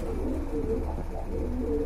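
Pigeons kept in pairs for sale coo close by, a few soft rolling throaty calls repeating over a low steady background with no talking.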